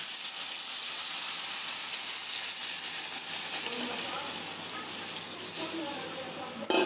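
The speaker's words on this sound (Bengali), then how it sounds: "এবার আমি জল দিয়ে দিচ্ছি" Water goes into a hot pan of frying potato pieces and spices, setting off a broad, steady hiss and sizzle of steam that slowly eases off, with a brief knock right at the end.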